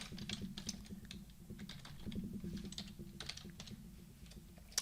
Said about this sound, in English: we can type in our keywords